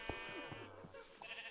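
Minecraft sheep bleat in short, wavering cries, one after another, close and clear against a quiet game background.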